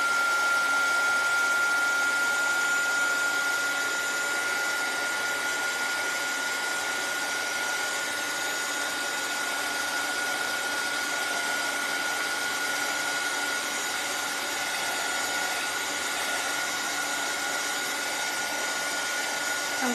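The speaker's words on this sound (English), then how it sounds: "I better hit this with a dryer first actually because it's just got done." A dryer blows hot air onto freshly painted wood for a porch leaner, a steady continuous whirring drone with a faint whine that holds at an even level throughout.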